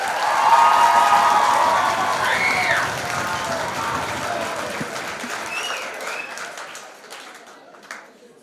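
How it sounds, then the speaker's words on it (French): An audience at a school talent show applauds, loud and dense clapping at first that gradually thins and fades toward the end. "Merci, on les applaudit, merci!"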